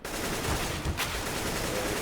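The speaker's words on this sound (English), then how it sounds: "Quite brutal here with these pistols blazing all over the place." Dense pistol gunfire in a Counter-Strike: Global Offensive match on Dust 2, rapid overlapping shots in a continuous loud barrage with no clear pauses.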